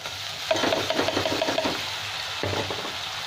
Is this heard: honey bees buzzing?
no